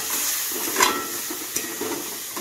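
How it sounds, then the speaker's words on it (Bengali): Onion paste frying in a pan over medium heat for a vegetable korma, a soft continuous sizzle with a few brief stirring scrapes, quiet and close with no talking. "পেঁয়াজটাকে ততক্ষণ ভাজবো যতক্ষণে না একটা হালকা ব্রাউন কালার আসছে পেঁয়াজটা"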